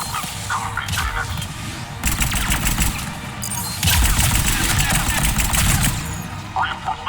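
Heavy gunfire in a Mass Effect 3 firefight on Sur'Kesh, with sustained bursts of automatic fire that grow denser midway, clattering over a constant background rumble.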